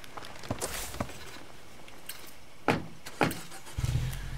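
Vehicle driving in the zombie survival game State of Decay 2, with a low engine hum, a few thuds and clunks as it rolls along, and a louder rumble building near the end, with no talking.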